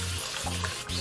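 A spray bottle misting water onto curly hair during a twist-out styling session, short hissing bursts repeated in quick succession, close and fairly loud.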